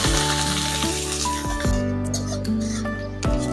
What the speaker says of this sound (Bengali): এখন দিয়ে দিচ্ছি পেঁয়াজ কুচি।